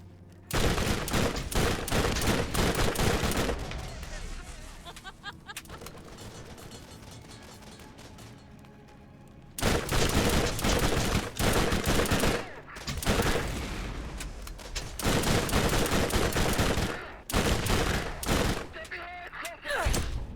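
Sustained SMG fire in Borderlands, long dense bursts of rapid shots broken by brief pauses, loud and continuous, with a voice talking intermittently underneath.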